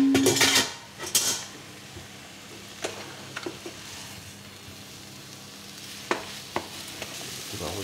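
Brussels sprouts are sautéed with onion in a pan, opening with a burst of sizzle that quickly settles into a soft fry, broken by occasional utensil clinks and scrapes against the pan, close and without speech.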